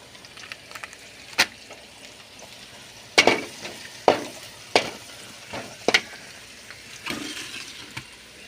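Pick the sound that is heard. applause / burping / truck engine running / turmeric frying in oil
turmeric frying in oil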